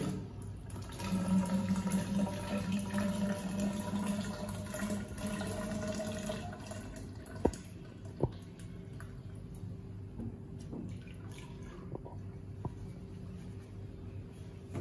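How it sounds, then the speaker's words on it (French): Water pours from a container into a bottle to dilute bleach, a soft continuous splashing and trickling at close range, followed by a few light knocks and clinks of plastic as the filling continues quietly. "je vais compléter avec de l'eau la quantité dont moi j'ai besoin"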